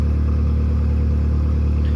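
A Toyota Tacoma engine idles slightly high after a throttle body adjustment, holding a loud, steady low rumble with an even pulsing rhythm and no revving.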